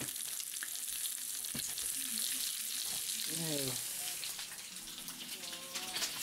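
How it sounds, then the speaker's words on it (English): Bacon frying in a pan for trailer trash pizza gives a steady close crackling sizzle, with a few clinks and stirring sounds and brief voices talking partway through. "So, while this bacon cooks up"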